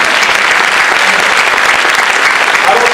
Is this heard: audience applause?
yes